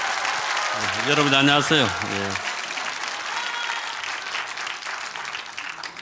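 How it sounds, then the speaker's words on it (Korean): At a political rally, the crowd gives sustained applause to welcome a speaker. A voice greets the audience briefly over the clapping near the start. "다시 한번 박수로 맞이하겠습니다."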